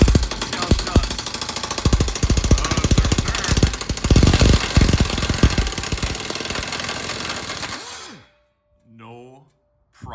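A compact cordless impact wrench hammers a rusty nut off a stud, a loud, dense rattling burst running about eight seconds before cutting out, followed by a brief quieter whir.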